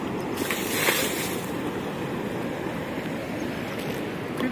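Water waves washing in during traditional fishing for upstream-running fish, a steady broadband rush of surf with wind noise buffeting the microphone throughout, continuous and moderately loud.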